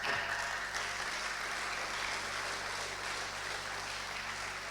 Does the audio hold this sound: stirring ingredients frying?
no